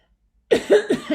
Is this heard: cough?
yes